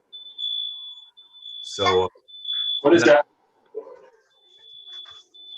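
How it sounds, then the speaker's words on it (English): A home smoke detector set off by pizza cooking upstairs on Columbus Day emits a steady high-pitched tone in long stretches, broken by two short bursts of nearby talk. "My smoke detectors just went off because my wife is cooking."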